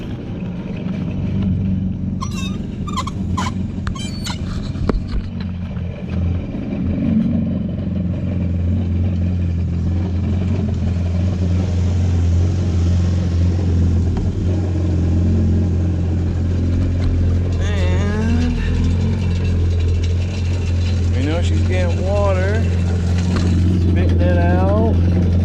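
A 2022 Yamaha GP1800R WaveRunner engine idles out of the water with a steady low hum and rumble, with clattering and hose water in the background, while someone talks over it at close range.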